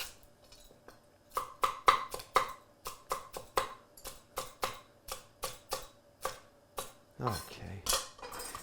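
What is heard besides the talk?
knife chopping vegetables on a cutting board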